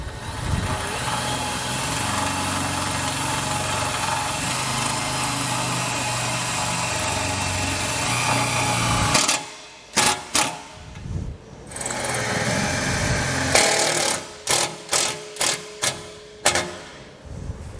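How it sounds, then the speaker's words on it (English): Self-tapping screws driven with a power driver to mount a Peterson quick mount trailer reflector: a steady motor whine for about nine seconds, then several short separate bursts of driving, close and loud. "just secure the light down with the screws"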